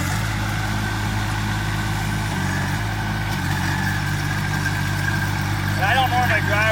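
A Groundhog ZH24D-2 mini excavator's diesel engine drones steadily at close range as the machine travels across a dug-up yard, with a shift in pitch partway through and a voice talking over it.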